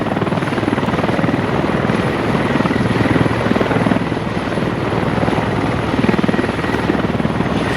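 A helicopter in a video game thrums with a steady, loud rotor beat and engine drone that holds unbroken throughout, with no voices over it.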